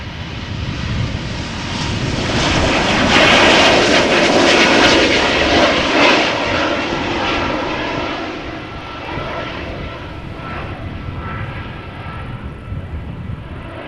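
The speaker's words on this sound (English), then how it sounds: "This is an E2 Embraer 195 going to Aberdeen" Embraer E195-E2 jet airliner bound for Aberdeen at Amsterdam Schiphol Airport, a loud broad engine roar that swells to a peak and then slowly fades as the aircraft passes.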